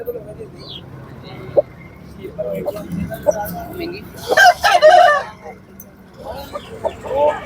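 Aseel rooster crowing at a crowded rooster market, a loud drawn-out crow rising above steady chatter from people nearby, with scattered clucks and crowd noise around it.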